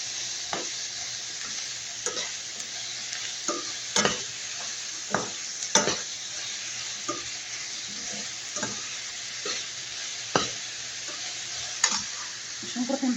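Onions fry in a pan with a steady, close sizzle, broken by sharp scraping and tapping from a utensil stirring them at irregular intervals.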